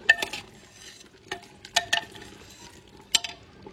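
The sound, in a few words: stirring and frying spiced country chicken curry in a pan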